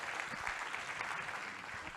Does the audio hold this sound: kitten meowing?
no